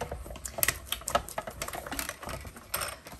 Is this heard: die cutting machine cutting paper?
yes